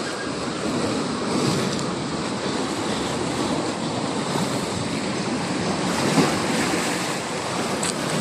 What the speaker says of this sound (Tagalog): ganito pala to ka lakas ng alon